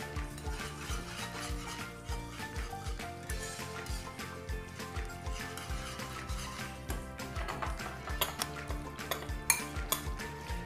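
A spoon stirs and scrapes through tuna and ham carbonara in a metal pan, steady rhythmic clinks and rubbing strokes repeating close by with a faint sizzle underneath.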